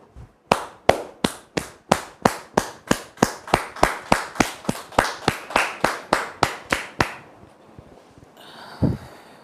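Studio audience on a French-language television talk show claps to welcome a guest: a run of loud, evenly spaced sharp claps that stops abruptly, followed by a brief voiced sound near the end.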